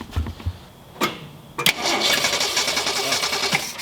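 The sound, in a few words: 1966 Ford Mustang engine starting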